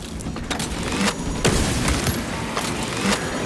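Combat in Warhammer 40k Space Marine 2: a dense wash of continuous gunfire with sharp individual cracks and a frag grenade blast near the middle, loud and steady throughout with no talk.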